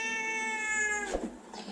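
A small cat indoors yowls at a dog, giving one long, drawn-out meow followed by a shorter, harsher cry, heard close and alone.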